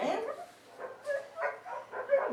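Puppy making short yips and whimpering sounds in a few separate bursts, close by, with brief pauses between them.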